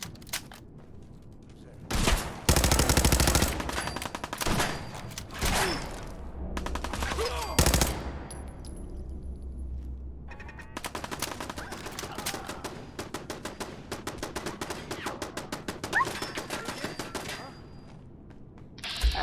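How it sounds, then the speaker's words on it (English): Turret gunfire in the video game Fallout 4, loud bursts of rapid shots in clusters, some long rattling volleys, with mechanical clatter between bursts. "that's a turret over there"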